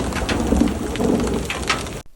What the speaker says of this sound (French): C'est pas de la pluie chez toi, c'est de la grêle.